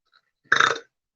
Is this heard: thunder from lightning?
no